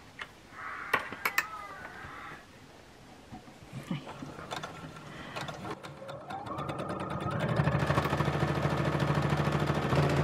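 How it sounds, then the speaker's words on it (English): A sewing machine quilts along diagonal lines on a pocket for a quilted reading pillow, with scattered handling clicks at first, then building into a steady fast rattling stitch run that grows louder toward the end. "I'm going to go ahead and just start quilting along the diagonal blue lines here."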